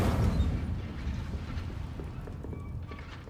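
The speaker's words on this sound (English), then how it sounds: "Setting things ablaze is certainly cathartic, isn't it?" Incendio fire spell cast in Hogwarts Legacy at practice targets: a loud, roaring whoosh of flame that swells at the start, then crackles and rumbles steadily as it fades.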